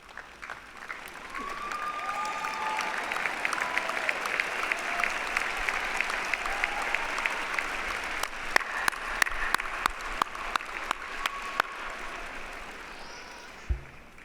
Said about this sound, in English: Would you please rise and give them all a big round of applause?